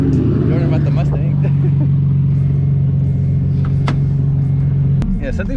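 A Nissan 350Z engine with a clutch problem runs at a steady, rough low drone, loud and close, with brief knocks over the top and a slight change near the end.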